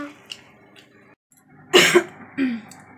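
A person indoors on a rainy day gives a short burst of coughing, two sharp close hacks followed by a softer third, after a quiet stretch with faint background sounds.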